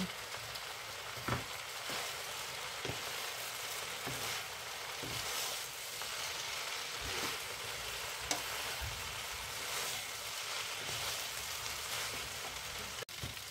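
Continuous crackling sizzle of shrimp frying in a hot pan, with occasional sharp pops and scraping stirs, close and steady throughout.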